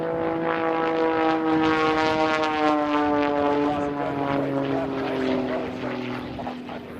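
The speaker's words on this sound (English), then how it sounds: "That aircraft as he pulls to the vertical." A propeller-driven aerobatic airplane flies a freestyle sequence at a national aerobatics championship, its steady engine drone with strong harmonic tones slowly shifting pitch as it climbs and maneuvers, loud and continuous throughout, with a commentator talking over it.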